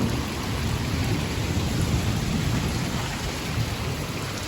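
Heavy rain pours steadily, a dense continuous roar with deep rumbling thunder underneath throughout.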